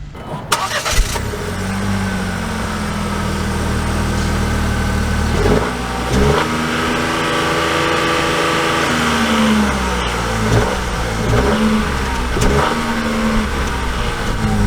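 A 2024 Chevy Trax RS starts with a sharp crank and catch, then settles into a loud, close idle broken by several rising and falling revs, with no talking.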